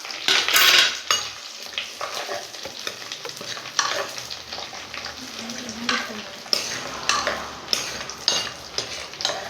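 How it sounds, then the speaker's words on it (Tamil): Tempering spices sizzle and crackle in hot sesame oil in a pan. A steady frying hiss runs throughout, with metal utensil scrapes and clinks as the mix is stirred nearby. "அப்படியே நம்ம தாளிக்க தேவையான திங்ஸ் எல்லாத்தையும் அப்படியே போட்டுடலாம்."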